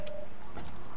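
Birds in Borderlands 2 coo briefly, a soft pigeon-like call over a constant background wash, close and short.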